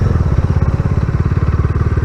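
A Bajaj Dominar 250 motorcycle engine thumps loudly and close by, a rapid even pulsing beat with a clattery mechanical edge, held steady for about two seconds without speech.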